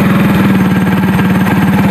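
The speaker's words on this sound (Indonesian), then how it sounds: "Kita kontak ya, kemudian kita starter ini ya. Coba kita tekan" A motorcycle engine fires up on its electric starter during a battery-drain check in a workshop, settling into a steady, loud, close idle with an even pulsing throb.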